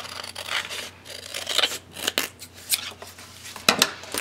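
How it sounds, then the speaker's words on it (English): Scissors trimming scrapbook paper: a run of quick, close crisp snips and paper rustles in an irregular rhythm, with no talking. "if I need to trim a little bit off, just gonna trim a little bit off."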